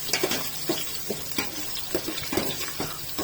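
Ginger is added to a cooking pot for shrimp sinigang and stirred, with soft repeated scrapes and knocks of a utensil over a faint, steady sizzle, fairly quiet and without talk.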